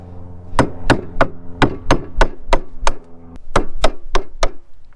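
Sharp hammer strikes drive a chisel into wood while a snow snake's head is carved, about a dozen loud, close knocks at a steady, slightly uneven rhythm with no talking.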